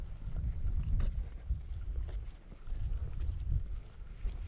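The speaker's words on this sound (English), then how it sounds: "Bloody wind." Gusty wind buffets the microphone on open Dartmoor moorland near Manaton and Hound Tor, a steady low rumble with stronger surges, close and loud, with no one speaking.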